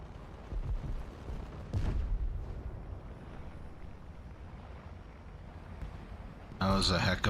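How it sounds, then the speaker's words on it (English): Explosions in War Thunder's jet combat, with a heavy blast early on, a rumbling roar of flight noise throughout and a sharp, crackling burst near the end. "That was a heck of a explosion."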